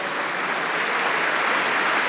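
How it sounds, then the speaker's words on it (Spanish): Dense, sustained applause from a church congregation during a sermon, a loud even wash of many hands clapping with no pause, no talk over it. "denle un aplauso fuerte al Rey"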